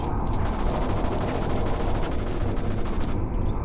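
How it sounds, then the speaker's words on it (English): Dense, rapid gunfire rattles without pause in the online multiplayer shooter GoldenEye 007, a loud continuous stream of overlapping shots and mechanical clatter that thins out briefly near the end. "All I hear is gunshots and anarchy."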